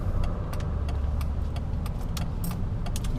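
A 2005 Mercedes C320 CDI diesel with 7G-Tronic automatic transmission runs with a steady low engine hum inside the cabin, broken by sharp clicking and jingling taps that recur irregularly.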